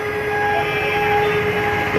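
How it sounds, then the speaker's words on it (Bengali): A continuous loud rumbling roar with steady tonal hums, like a train going past nearby, sustained without pause and with no talking. "যাওয়ার পথে একটা ট্রেন যাবে তারই গেট করছি আমি"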